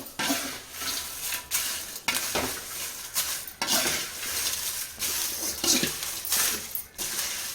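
Dried red chillies roast in a pan for sambar powder while being stirred, a ladle scraping and rattling them in repeated sweeping strokes over a soft dry sizzle, close by.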